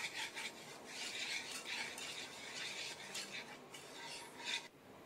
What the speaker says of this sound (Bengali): তার জন্য আমি অনবরত ঘোরাচ্ছি এটা